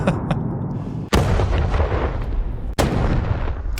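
Loud explosion sound effect files play in succession: three heavy booming blasts, each starting with a sharp crack and rolling into a dense rumble that overlaps the next, with no voices.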